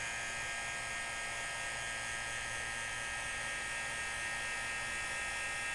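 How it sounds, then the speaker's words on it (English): A refrigeration vacuum pump, evacuating a Maytag refrigerator during a freezer compressor replacement, runs with a steady, even electric whine and hum, constant and unchanging throughout, with no voices. "turn the vacuum pump on."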